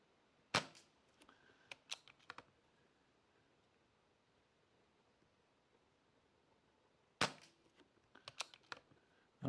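A BSA air rifle firing Gold Star pellets gives two separate sharp, close cracks, each followed by a short run of light mechanical clicks, with near silence between them.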